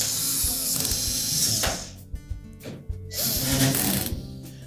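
A power screwdriver whirs and ratchets as screws are driven to secure the back panel of a Whirlpool washer, with a long loud run, a short stuttering burst in the middle, and another sustained run near the end.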